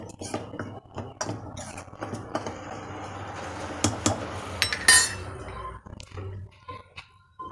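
Soybean chunks mixed with flour in a bowl by hand or spoon, with irregular clinks and taps of utensil against the bowl and soft rubbing sounds, loud and close, punctuated by sharper knocks.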